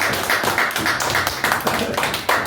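A church congregation claps together for an apostle, a dense, steady wash of hand claps with rhythmic swells, close and loud without any voices.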